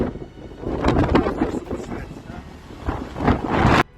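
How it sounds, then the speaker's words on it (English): A severe storm lashes the coast of Turkey, with strong wind and crashing surf forming a loud, continuous roar of buffeting gusts and churning water close to the microphone. "Turkey was hit by severe storms and flooding over the weekend"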